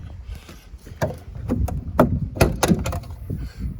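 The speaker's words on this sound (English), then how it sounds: "Try and open the door." The damaged rear tail door of a Land Rover Defender 90 TD5 is worked open, giving several close clunks and rattling knocks in an irregular sequence over a low background rumble.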